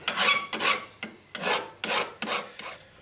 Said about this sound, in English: Let's take off the burrs a bit.